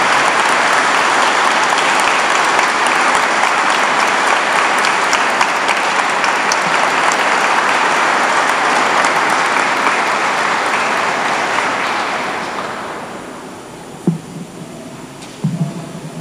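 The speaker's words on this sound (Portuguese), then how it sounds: "Nós podemos dar uma salva de palmas para eles" Congregation clapping during Mass in a cathedral, a long, full and even burst of applause that fades out, followed by a few quiet knocks and shuffles in the reverberant space.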